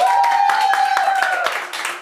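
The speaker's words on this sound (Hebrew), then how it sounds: "כפיים לסבתא רחל" Family and guests clap together for grandma Rachel at a birthday party, a steady close patter of hands lasting a couple of seconds, with voices mixed in.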